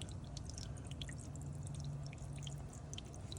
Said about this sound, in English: See, now the water's coming out.